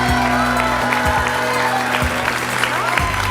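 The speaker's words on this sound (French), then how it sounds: "Je vous demande d'applaudir le coupe-cheveux" A studio audience applauds a hair clipper's inventor on a French television show, dense clapping held at a steady level throughout, with low sustained music tones running beneath it.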